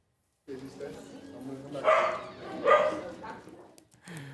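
Dogs inside a New York City dog cafe let out two or three sharp barks, close and moderately loud, mixed with people talking over the room.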